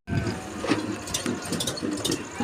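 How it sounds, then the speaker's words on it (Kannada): A tractor engine runs near a village festival crowd for Diwali cattle celebrations, its steady mechanical rumble and rattling clatter continuous and fairly loud throughout, with no talking. "ಸೊ ಒಂದು ಟ್ಯಾಕ್ಟ್ರಿ ಬಂದಿದೆ"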